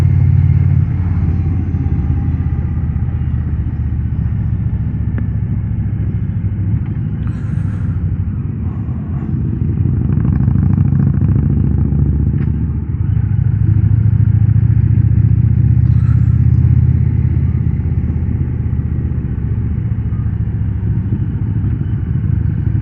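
A 2025 Indian Pursuit motorcycle rides along the road on a hot day, with a constant low engine drone and wind rush heard from the rider's position that swells slightly partway through, and no voices.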